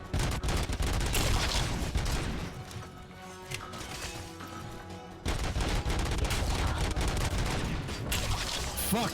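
Sustained machine gun fire from enemies in RoboCop: Rogue City, dense and loud rattling volleys with crashing impacts layered over game music, briefly thinning before resuming at full intensity.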